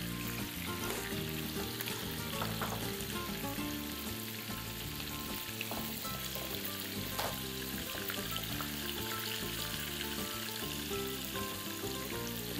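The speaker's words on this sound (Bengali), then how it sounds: "এবারে খুব কড়া ভাজবো না হালকা একটু ভাজলে তাহলে খেতে ভালো লাগে" Fish frying lightly in oil in a pan on a cooking show, a steady, even sizzle that runs unbroken throughout at a moderate level with no talking.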